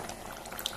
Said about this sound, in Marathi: मातशी उकळी येवनी जाली